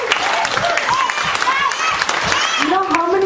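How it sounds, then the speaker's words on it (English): An audience at a network marketing business presentation claps for a company while voices carry over and through the applause, which stays fairly close and continuous for a few seconds. "let's give this company a big round of applause again"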